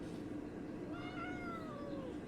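A cat meows once in a long, rising-and-falling call over steady background noise while being petted indoors; the meow is clear and close.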